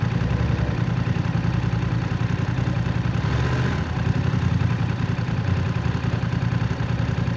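A BMW F900R motorcycle with stock exhaust idles close by, a constant low, throbbing exhaust rumble that holds steady throughout with a brief swell midway.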